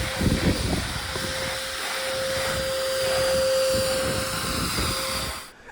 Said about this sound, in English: we have to vacuum this everything off